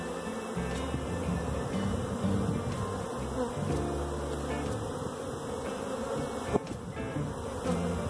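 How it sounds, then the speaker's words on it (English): Dense, continuous buzzing of many agitated honey bees swarming around an opened hive during a hive split, a steady close drone with individual bees whirring past near the listener. "Lots of angry bees."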